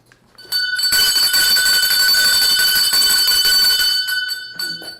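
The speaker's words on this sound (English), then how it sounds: "Ring the bell. Ring the bell." A bell rings out on a game show to mark a winning answer, a loud sustained metallic ring lasting about three and a half seconds before trailing off.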